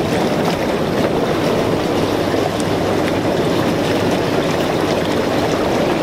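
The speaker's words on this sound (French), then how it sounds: "Soyons fous, mettons les bulles." Hot tub bubble jets run at full strength, a steady, dense rushing and churning of water and air that stays loud and even throughout with no voices.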